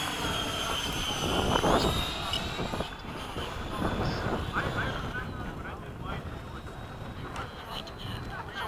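An HSD F-16 model jet comes in to land with a steady whooshing ducted-fan whine that shifts in pitch as it passes, under wind noise and people talking nearby.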